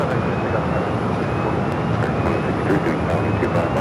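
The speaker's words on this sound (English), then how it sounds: "Cleared for takeoff." An Airbus A321 airliner taking off from runway 25 right at Phoenix Sky Harbor gives a steady, loud, broad jet roar, unbroken through the stretch and heard from a distance, with no talking.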